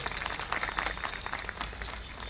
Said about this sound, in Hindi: बाबला जी का तहे दिल से तालियों से स्वागत करें